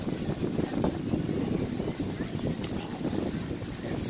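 Steady wind buffets the microphone with a low, constant roar, a few faint clicks and knocks breaking through.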